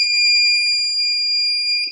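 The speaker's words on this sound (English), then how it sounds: "buzzer will be on, just like you heard" An electronic buzzer switched by a Raspberry Pi through a PCA9536 digital I/O chip sounds a loud, steady high-pitched tone for about two seconds, alone, with a slight change just before it stops.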